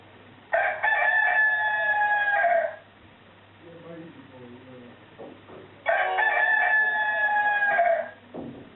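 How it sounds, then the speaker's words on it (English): Two bursts of an electronic rooster crow from a Cobolt Speechmaster T-10 talking alarm clock, each lasting about two seconds, separated by a pause with soft voices talking in the background. "So that's the cockerel."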